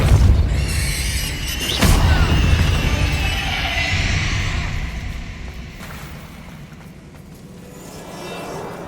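A booming Confringo fire-spell blast in Hogwarts Legacy, a loud close explosive burst followed by a roaring, crackling rumble that slowly fades, with a second sharp impact soon after.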